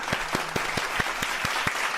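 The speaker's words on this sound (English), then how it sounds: "Everybody, clap it up for AB." A few people clap for AB the Baller during a live NBA 2K26 stream; roughly ten sharp, separate claps spaced at an even pace, close and moderately loud, with no talking.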